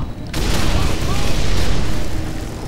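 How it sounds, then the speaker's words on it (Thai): A grenade blast in Call of Duty: Modern Warfare 3 comes in as a sudden loud boom and then a sustained roar of rumbling debris and noise lasting a couple of seconds. "เฮ้ยคว้างระเบิดไปแล้ว"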